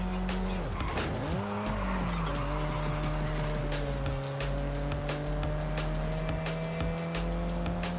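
A car drifting in Forza Horizon 5, engine droning steadily while tires squeal in rising and falling sweeps, loud and continuous throughout without talk.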